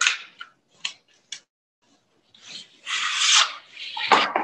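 A chisel is polished on a soft white sharpening stone: a few short scraping strokes at first, then a pause, then longer, louder rubbing passes, close up with no talk.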